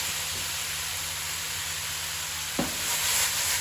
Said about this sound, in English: Now it's the right time to add the rest of the vegetables